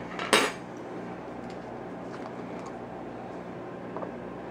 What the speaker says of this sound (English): Just use a spoon around the edge to loosen it up.